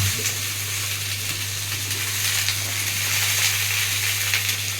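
Frying masala crackles and hisses steadily in a pan over low gas while being stirred, with a continuous close sizzle under a low hum and no talk.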